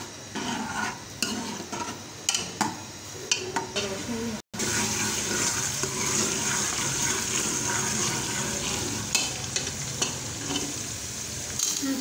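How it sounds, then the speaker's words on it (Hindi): Onion, garlic and crushed ginger fry in hot oil for cumin rice, a steady close sizzle with stirring scrapes and clinks, broken by a brief gap midway; a voice speaks faintly at times. "तो हमने ये तेल और प्याज अनियन डाल लिए हैं, लहसुन, ये हमने अदरक अभी कूट ली है"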